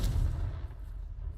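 The Confringo blasting spell going off in the video game Hogwarts Legacy, a single deep, heavy boom that rumbles and fades over a second or so.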